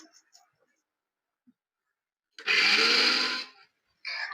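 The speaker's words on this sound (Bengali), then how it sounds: "এখন এই ডালটা আমি মিক্সিং বলে দিয়ে গ্রেট করে নেব" A mixer grinder whirs loudly for about a second as it grinds soaked chana dal, starting abruptly and cutting off, with a brief second burst near the end after quiet.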